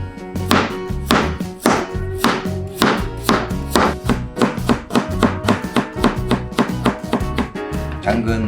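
Rapid knife chopping on a board as carrot is finely minced for paprika meatball pancakes, a steady stream of close, sharp thuds with no pauses.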